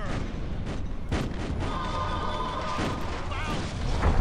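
Self-propelled howitzers fire in an Empire Earth 2 battle, with a deep booming rumble and repeated heavy blasts over steady battle noise, loud and close, while a voice speaks briefly.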